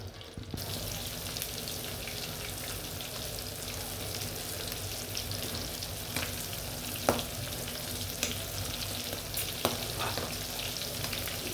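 Steady, loud sizzling of aair (catfish) frying lightly in hot oil in a pan, continuous throughout with a few faint clicks, no talking.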